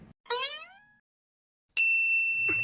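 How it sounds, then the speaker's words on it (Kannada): Phone alerting to an incoming call, a short rising chime, a pause, then a sustained bright ringtone tone, clear and close in a quiet room. "ಅರೆ ಅರೆ ರಾಕೇಶ್ವರ್ ಫೋನು"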